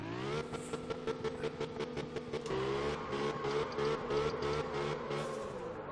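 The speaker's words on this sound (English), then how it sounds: "Handbrake, full gas, turn, let go of the handbrake." A car engine in the driving game Absolute Drift revs hard at full throttle through a drift, a loud, steady, buzzing roar that shifts pitch as the car slides, alone with no talking.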